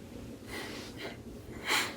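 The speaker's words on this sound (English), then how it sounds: "Let's give it a sniff." A beer taster sniffs a glass of Alms Hell lager with a pillowy white head: two soft nasal inhales, then a louder, longer sniff near the end, close to the nose and alone with no talk.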